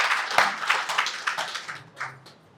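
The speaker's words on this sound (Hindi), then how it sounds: "इनके लिए जोर से ताली बजाइए।" Several people in an audience at an International Yoga Day session clap together loudly in brisk, uneven bursts for a couple of seconds, then the clapping tapers off.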